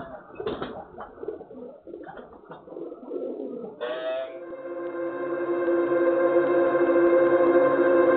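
Untulan pigeons, a decoy breed kept for high-flying pigeon sport, coo in a steady layered drone that builds and grows louder over the clip, with some earlier rustling and noise at the start.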